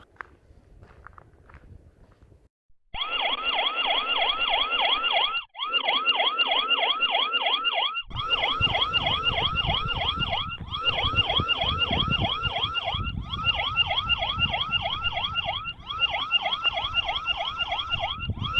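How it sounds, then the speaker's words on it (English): A loud electronic siren from a wireless solar-powered outdoor security camera wails in a fast repeating warble, starting abruptly after a few quiet seconds and continuing steadily, with rustling and thumps underneath. "we turned on the siren with the strobe light"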